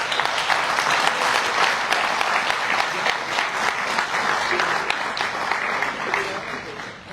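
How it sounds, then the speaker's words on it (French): An audience at a public meeting applauds with sustained, energetic clapping that stays loud and close for several seconds and fades slightly at the end. "On peut les applaudir."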